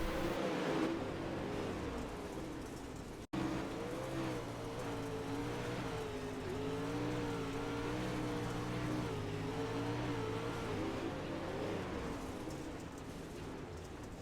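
The engine of a dirt Pro Late Model race car at Eldora drones steadily, its pitch wavering up and down as the driver lifts off the throttle. It stays moderately loud with a brief dropout early, and no voices.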